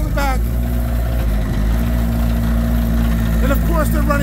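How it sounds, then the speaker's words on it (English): A deep, rumbling engine of a Praga R1 racecar idles loudly and steadily throughout, with a voice talking over it. "Like a motorcycle exhaust in the back"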